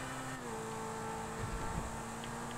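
A supercar's engine in Grand Theft Auto V holds a steady drone with a sustained tone, a faint rise in revs midway, continuous and fairly loud throughout.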